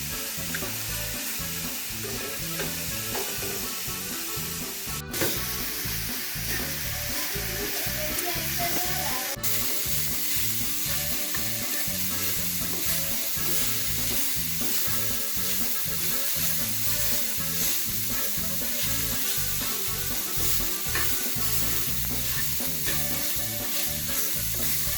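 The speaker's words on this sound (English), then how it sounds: "Now put the pan on the stove and cook for a few minutes." Gotukola (pennywort) sambol cooks in a pan on the stove, giving a steady, dense sizzle and frying crackle with stirring throughout, close and loud, with no voices.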